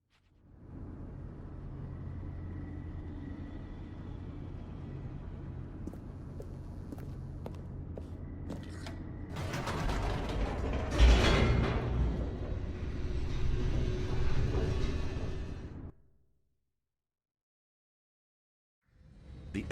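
An elevator in The Stanley Parable descends with a steady low mechanical rumble that swells into a louder rattling rush before stopping abruptly, then a stretch of silence.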